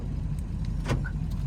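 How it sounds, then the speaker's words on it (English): A Ford 7.3 Powerstroke diesel truck idles steadily on remote start with the key off, giving a constant low rumble. A faint click and a brief short tone sound briefly over it, and nobody speaks. "key is off, truck is running"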